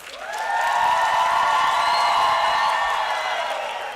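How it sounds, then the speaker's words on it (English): Audience applause at a university graduation ceremony, a steady wash of clapping and cheering that swells in quickly, holds evenly for several seconds, then begins to fade. "Can you please give them a round of applause?"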